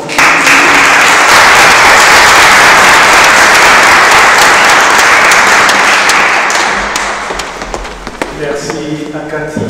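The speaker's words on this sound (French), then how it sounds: "Et nous allons surtout applaudir Laura." Church congregation at a Saturday evening Advent Mass in Bages breaks into sustained, loud applause that holds steady, then thins and tapers off toward the end while scattered claps continue.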